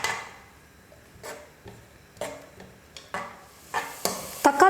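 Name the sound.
ground tomato paste being cooked and stirred in pan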